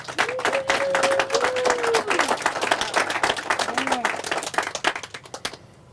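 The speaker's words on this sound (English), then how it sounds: "A big round of applause." A crowd at an outdoor groundbreaking ceremony claps steadily, a moderately loud patter of many hands with a sustained tone and a brief voice over it, tapering off toward the end.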